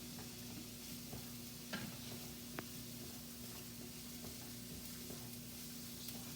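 Onion, garlic and ginger frying in a hot wok: a continuous close sizzle with a soft hiss underneath and occasional light scrapes and taps of stirring, with no voices.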